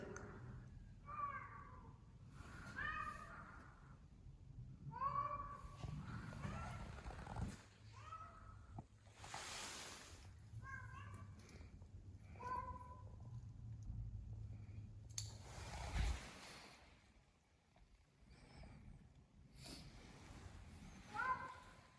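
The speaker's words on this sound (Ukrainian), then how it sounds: "Він м'явкає." A cat meowing near an apartment building entrance in Skopje, Macedonia, repeated plaintive meows coming in irregular bursts over about twenty seconds, fairly close, with a few rustling and handling noises in between.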